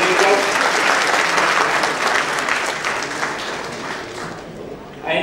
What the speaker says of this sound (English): invite the audience to give a round of applause to the panelists over here for having done a great job